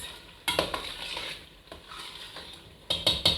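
Brown beans porridge stirred in a cooking pot, with a few sharp clinks and scrapes of a spoon against the pot over a soft bubbling background, no talking.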